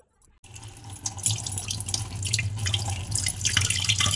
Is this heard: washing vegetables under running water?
yes